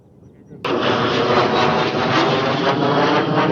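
Loud jet aircraft roar near Rickenbacker, setting in abruptly and holding as a broad, steady rumble close overhead for the rest of the moment, with no voices over it.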